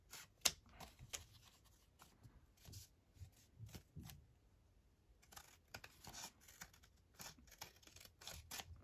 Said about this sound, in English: I just need to move my lace for a second so I can trim off that bit.